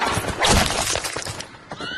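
A horse neighs loudly in a fantasy film scene, a strong whinny with hoof and clatter noises around it and a brief rattling crash near the start.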